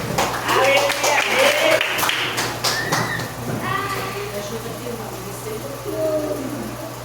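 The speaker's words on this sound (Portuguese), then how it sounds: "da palmas para Jesus" Church congregation clapping during an Easter communion service, with scattered, uneven claps strongest early on, mixed with voices and background sound.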